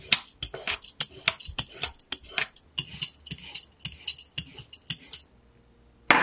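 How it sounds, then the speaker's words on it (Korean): A knife slices carrots thinly on a cutting board, giving a quick, steady run of crisp chopping taps close by that stops abruptly near the end. "당근은 얇게 슬라이스 하세요."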